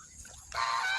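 A goose lets out a loud, nasal honk close by after a brief quieter moment.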